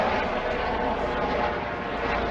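A helicopter in a video game thrums loudly and continuously, a dense steady rotor and engine roar with no talking over it.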